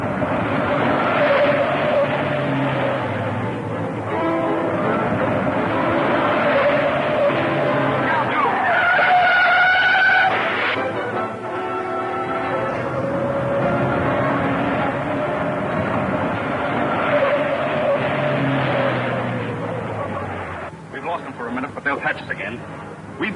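Car skidding with squealing tires during a chase scene in an old radio-style film serial, loud engine and tire noise running throughout under steady overlapping dialogue and music.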